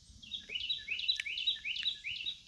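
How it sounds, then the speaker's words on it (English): A bird sings outdoors in a short, clear, repeated chirping phrase about five times in quick succession, with a soft low rumble of background noise and no talking. "listen to that bird"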